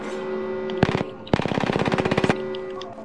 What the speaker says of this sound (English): They just shot at the decoy.